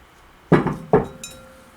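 A pottery or ceramic bowl is handled during oiling, giving two close, sharp clinks against a hard surface and a fainter tap after, in a quiet kitchen.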